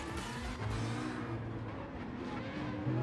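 McLaren VGT race car in Gran Turismo 7 played on PSVR 2 with a Fanatec wheel, its engine droning steadily with shifting pitch, continuous and fairly quiet, no talking.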